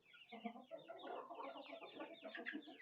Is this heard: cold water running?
no